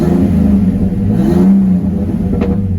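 A turbocharged BMW E46 with a Nightmare CX Racing turbo kit idles loudly and smoothly up close, its steady engine drone swelling briefly in a mild rev before settling.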